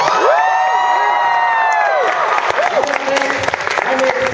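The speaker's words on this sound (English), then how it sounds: "Can we give a gigantic scream for everybody?" A convention crowd at a closing ceremony screams and cheers loudly, with high whoops and shouts rising over a continuous wash of applause and clapping.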